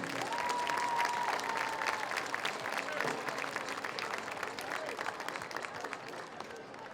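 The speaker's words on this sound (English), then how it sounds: "How about a nice round of applause for Marcia Abney's family?" Steady crowd applause fills a school award presentation honoring a recipient's family, dense clapping from a sizable audience holding level throughout before easing slightly near the end, with a brief high tone early on.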